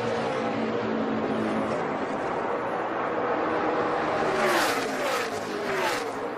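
NASCAR stock cars race at Kansas in the 2012 Kansas Lottery 300, their engines a dense, continuous roar with cars sweeping past close by and pitch rising and falling as they pass.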